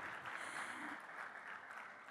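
Applause from an audience at a film pre-release event in India, a steady dense patter of many hands clapping at moderate loudness, continuous throughout with no voices.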